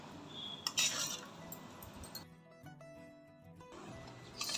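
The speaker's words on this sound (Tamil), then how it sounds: "லேசாக தான் கிளறணும்." Chicken biryani gets a gentle stir in a pot, with soft scraping and a few sharper metal clinks of the spoon, brightest near the start and at the end, quiet overall with no voice.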